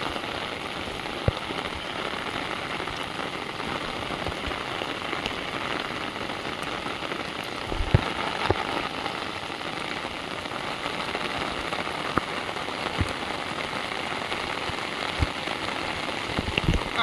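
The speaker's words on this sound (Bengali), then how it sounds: "বৃষ্টিটা হচ্ছে খুব জোর" Heavy rain pours down on an open field during a fishing trip, a dense, even patter and hiss close by, broken now and then by sharper individual drops, with no voices.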